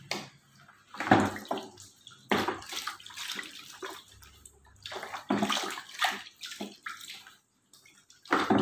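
Water splashes and pours over feet being washed during a pedicure, in uneven bursts of sloshing and trickling close by, with short quiet gaps between.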